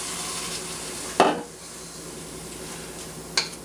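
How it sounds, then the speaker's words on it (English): Belgian blonde beer poured into a hot pan of mushroom risotto, giving a steady sizzling hiss with a short sharp burst near the start and a smaller clink toward the end, close and moderately quiet. "adding some beer, because we are cooking with beer tonight. So a little Belgian blonde."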